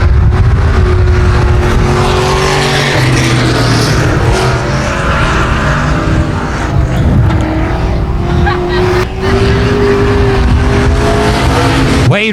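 Race cars roar around the 281 Speedway oval during a heat race, engines loud and continuous as they pass and rev through the corners, with a track announcer talking over the noise.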